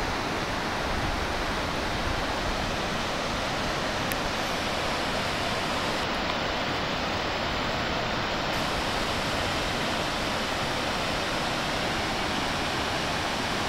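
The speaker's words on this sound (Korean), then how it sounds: "밑에 길을 지나가면서 볼 때는 굉장히 높은 폭포였습니다" A tall waterfall in North Cascades National Park heard from a viewpoint above, giving a dense, unbroken roar that stays constant and loud throughout.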